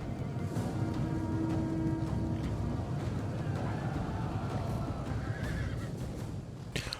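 Cavalry horses charging in Total War Attila, with loud whinnies, neighing and a steady rumble of hooves filling the whole stretch, no talking.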